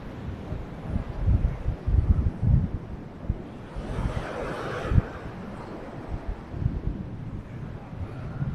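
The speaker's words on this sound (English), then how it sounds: "As you see, the wind is constantly changing" Gusty wind buffets the microphone at Lady's Mile Beach in Limassol, Cyprus, with uneven low rumbling bursts and a brief hissing swell midway.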